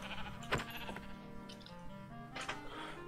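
A Minecraft sheep bleats twice, short wavering cries spaced apart and faint, set against a low steady background with no talking.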